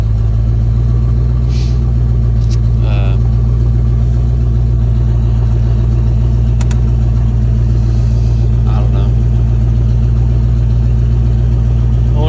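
A carburetor-swapped Ford F250 engine idles unevenly up close, a loud continuous low rumble with a slight wavering pulse and a few faint clicks and rattles on top.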